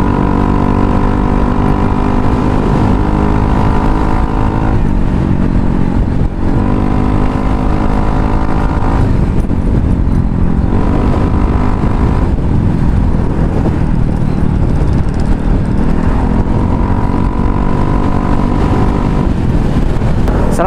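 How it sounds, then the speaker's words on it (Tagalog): A Yamaha Mio Soul i125 scooter fitted with a V-Lane muffler idles and revs steadily and close, its exhaust note rising and falling in several throttle blips over a continuous engine drone, with no talking. "Okay, pakinggan natin tunog ng V-Lane muffler."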